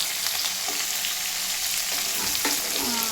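Tomatoes fry in a pan for a lentil and field-bean sambar, giving a steady, close hiss with a few soft stirring scrapes and no voices.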